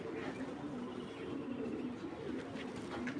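Female army madi giribaz pigeons coo softly and repeatedly at close range, low rolling calls in a quiet setting, with no talking.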